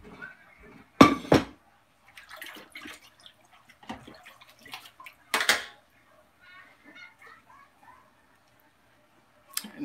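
A cooking pot being fetched and handled in a home kitchen, with a couple of sharp metallic clanks, scattered softer knocks and rattles, and faint watery handling sounds, close by and without talk.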